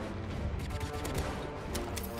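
Blaster fire in a Roblox Star Wars battle game: a steady, busy barrage of overlapping shots and combat noise, fairly loud and constant, with no speech over it.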